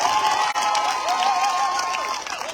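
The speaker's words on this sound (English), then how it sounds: "Let's give her a round of applause." Crowd at an outdoor PPP/C political public meeting in Dundee, Mahaicony, cheering and applauding steadily, with shouts and whistle-like calls rising above the clapping.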